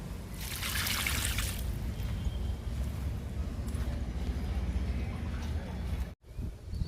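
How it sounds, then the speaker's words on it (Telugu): Water trickling and splashing steadily as a sweet lemon plant is watered, a continuous close pouring sound with a brighter hiss early on. "స్వీట్ లెమన్కి వాటర్ ఇస్తున్నా."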